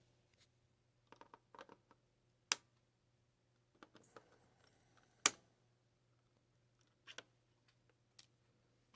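Small cutters snip excess wire leads on the circuit board of an early 1970s Magnavox 13-inch black-and-white TV, giving a few sharp, isolated clicks spaced seconds apart over a quiet steady hum.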